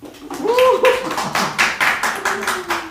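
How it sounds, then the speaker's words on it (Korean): Scattered hand claps from a small online audience at the opening of a talk-show book session, uneven and sparse, mixed with a voice speaking over them. "여러분 박수 한번 해주십시오"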